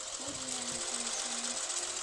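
A tractor engine in the Farming Simulator game drones steadily at a low pitch throughout, with a faint hum rising and falling slightly; no talk over it.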